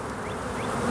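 Honey bees buzz around a hive frame lifted out during an inspection: a steady, close, continuous droning hum with no voices.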